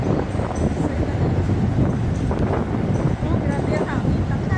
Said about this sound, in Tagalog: Oh, grabe yung hangin. Lakas.